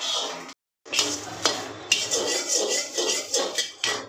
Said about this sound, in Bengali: তো চলো নিম পাতাটা ভাজি